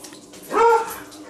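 A puppy gives a single short, close whimpering yip that rises and fades within a second, with quiet room sound around it.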